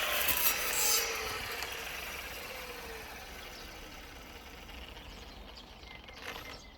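A brush cutter clears overgrown weeds such as goosefoot with a saw blade on a future chayote plot, its engine whining steadily and loudly at first, then easing to a quieter continuous drone with a brief surge near the end.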